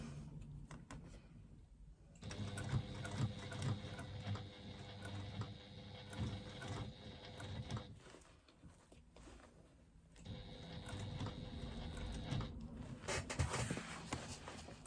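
A sewing machine stitches the lining and exterior of a bag together, running in two long bursts of steady mechanical whirring separated by a brief pause, close and clear with no talking.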